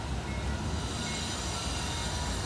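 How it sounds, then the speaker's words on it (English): Freight train passing on a coastal track by the ocean, a steady loud broadband rumble and roar of rolling wagons, close and continuous, with no voices. "There's a train coming through."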